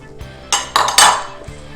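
Four egg yolks are whisked into melted chocolate in a bowl for a chocolate mousse, heard as a few quick metallic clinks and scraping strokes of a whisk against the bowl, close up and without speech.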